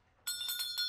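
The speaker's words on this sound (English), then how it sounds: "That's the starting bell." A cartoon starting bell rings abruptly after a brief silence, a bright metallic tone pulsing in a quick trill of several strikes, clear and close with no talk.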